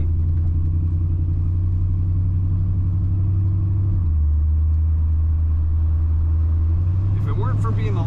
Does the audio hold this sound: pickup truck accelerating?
yes